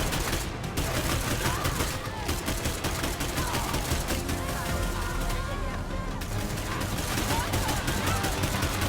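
Rapid bursts of gunfire from the video game State of Decay 2 crackle continuously and loudly, shots overlapping into a dense barrage with brief dips in between.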